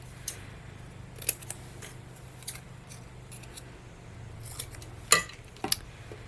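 Several short, crisp scissor snips trimming a small piece of cardstock for a witch card craft, spaced irregularly over a faint low hum, with a couple of louder cuts near the end.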